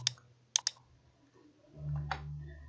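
A few sharp computer mouse clicks while working in PowerPoint, two quick ones close together then a softer one, over a faint low hum.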